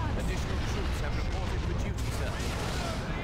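Artillery shells land in a loud, dense barrage of booms and gunfire in the strategy game Dawn of War 2 Retribution with Imperial Guard forces, with someone talking over it.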